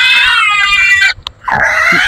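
A piglet about five days old squeals loudly and close by on a farm: a sustained shrill cry that breaks off briefly, then resumes with another high, strained squeal.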